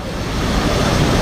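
Floodwater in Nepal roars under a collapsing bridge, a loud, steady broadband rush that holds unbroken for the whole moment with no voices.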